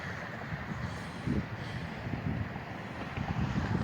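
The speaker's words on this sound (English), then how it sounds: "This is like 6-mile-an-hour wind." Light outdoor wind of about six miles an hour blowing near a small wind turbine in a vegetable garden, a steady broadband rush with gusty swells and microphone buffeting, no voices.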